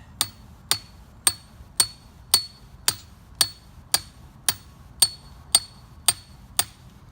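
A hammer drives rebar stakes into the ground for a well house foundation with thirteen sharp, ringing metallic blows at a steady, even pace, close and clear with no talk.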